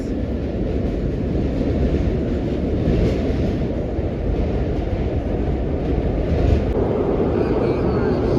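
A 1930s vintage NYC subway train rumbles loudly and steadily throughout, a dense low roar with rattling, close and continuous without a break.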